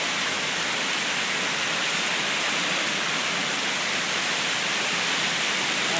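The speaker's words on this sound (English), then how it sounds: "Holy crap, it's raining." Steady broadband hiss of heavy rain pouring down during Tropical Storm Isaac at West Palm Beach Shores, Florida, near the ocean; a dense, unbroken wash that holds constant and loud for the whole stretch with no voices over it.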